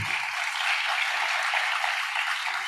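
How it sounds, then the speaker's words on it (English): Conference audience at a climate and education forum plenary greeting a speaker with applause, a dense, even wash of clapping that holds steady for a few seconds. "Please give her a round of applause."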